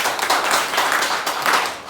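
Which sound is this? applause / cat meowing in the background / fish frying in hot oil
applause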